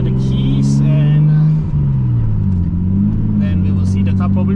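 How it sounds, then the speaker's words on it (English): Nissan Cefiro A31 car driving, a steady mid-pitched engine drone heard from inside with road rumble and slight pitch shifts as it runs, with brief higher clicks and squeaks above. "You can see from the drive how I'm enjoying this car actually."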